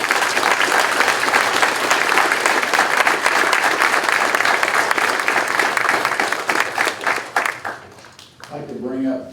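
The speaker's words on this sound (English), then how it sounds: "Please show your appreciation with a round of applause." An audience at a graduation ceremony gives a round of applause, with dense, loud, sustained clapping that thins out and fades near the end before a voice begins.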